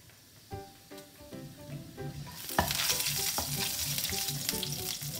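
Cumin seeds dropped into a teaspoon of hot ghee in a pan, first a quiet low bubbling, then a sudden bright burst of close, crackling sizzle that keeps going without any voice.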